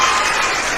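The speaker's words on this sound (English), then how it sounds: "let me clap for everyone" Hands clap during a live online show, a dense, continuous patter of clapping with no pauses, fairly loud and close.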